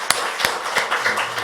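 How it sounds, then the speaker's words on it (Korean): A church congregation claps in celebration during a Sunday worship service. The claps are sparse and distinct, sounding as a few separate hits over a short stretch at moderate distance. "우리 하나님께 영광의 축하의 박수 올려드리겠습니다."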